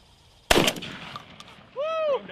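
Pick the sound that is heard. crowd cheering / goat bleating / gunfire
gunfire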